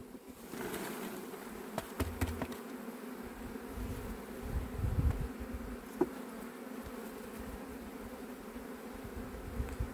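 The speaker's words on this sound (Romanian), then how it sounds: "Vede cum cade albina după diafragmă." Honeybees buzzing at an open beehive during an April colony inspection, a steady close hum throughout, with a few faint taps and knocks from handling the frames.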